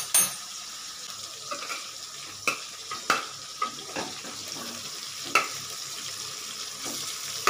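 Chicken pieces dropped into a hot pan for chilli chicken, with a continuous sizzle of frying and repeated scraping stirs and clinks of a spatula, close and steady with no talking.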